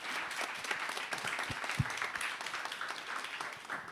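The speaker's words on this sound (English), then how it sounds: "please give them a round of applause" An event audience applauds semi-finalists and finalists with a steady, moderately loud patter of clapping that continues throughout.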